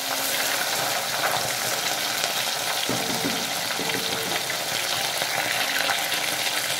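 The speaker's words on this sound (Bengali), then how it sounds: "মাছ আমার ভাজা হয়ে গেল দই তেলাপিয়ার জন্য" Tilapia pieces fry in hot oil for doi tilapia, producing a loud, constant close-up sizzle and crackle that holds evenly throughout, with no voices.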